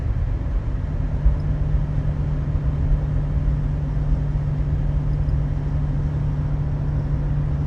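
A 1965 Ford Mustang Fastback cruises down the road at around 65 to 70 mph, giving off a steady, even low hum of engine and road noise with no talking.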